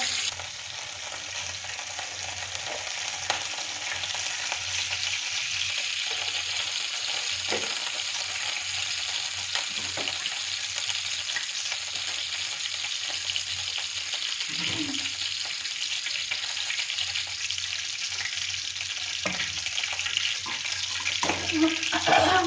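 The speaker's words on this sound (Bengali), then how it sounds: "মাছগুলো ভাজা হয়ে গেছে সব" Fish sizzles steadily in hot oil in a home kitchen pan, a continuous close, even frying hiss that runs throughout with no voices.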